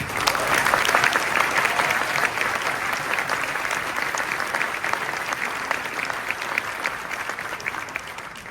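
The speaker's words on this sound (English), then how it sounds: "I would like all of us to give him the round of applause that he deserves" A large audience gives a sustained round of applause honoring a person who made a big difference to an organization, dense steady clapping that stays loud throughout and tapers slightly toward the end, with no talking.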